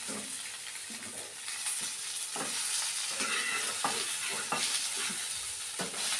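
A few pieces of chicken frying in a pan with spices, giving a continuous close sizzle and hiss broken by occasional stirring scrapes.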